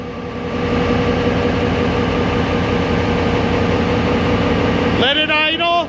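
A 1992 Ford Econoline engine idling close by, a steady, loud low rumble with an even hum throughout, and a voice speaking over it near the end.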